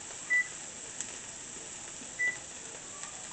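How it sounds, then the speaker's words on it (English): A kitchen timer gives two short, clean beeps about two seconds apart, fairly quiet against a faint steady room hum. "Set the timer."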